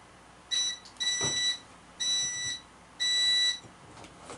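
A fire alarm under test sounds in four loud, high-pitched electronic tones, each lasting about half a second, separated by brief gaps.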